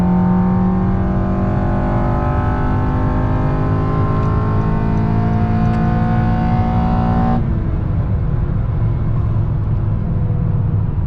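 A 9th-generation Honda Civic Si with a 3-inch KTuned intake revs hard, its engine note climbing steadily in pitch into VTEC with loud intake roar, then dropping off abruptly as the throttle closes and the engine settles back down.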